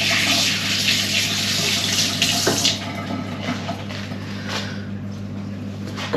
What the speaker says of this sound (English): Quickly wash my hands so I can turn the camera off.